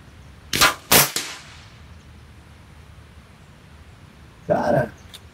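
Sharp air rifle pellet shots crack out, a quick pair near the start, then another after a quiet pause, each short and snappy against a faint background hiss.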